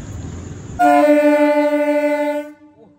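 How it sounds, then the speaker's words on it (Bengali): A local train at Nabadwip Dham station sounds one loud, sustained horn blast of about two seconds, rising over low station rumble and then cutting off. "আওয়াজ ট্রেনের ভাই, এত আওয়াজ।"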